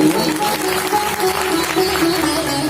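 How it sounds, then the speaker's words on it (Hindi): An audience at a Hindu religious discourse on Lord Krishna applauds in a dense, steady burst of clapping, loud and close, lasting a few seconds without a break. "प्रेम से जोरदार ताली बजाओ इनके लिए।"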